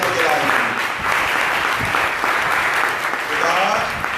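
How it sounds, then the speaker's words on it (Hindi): A congregation at a Friday prayer service breaks into loud, sustained applause, a dense even clapping that carries on steadily with a few scattered voices underneath. "जोरदार तालियां खुदा के लिए।"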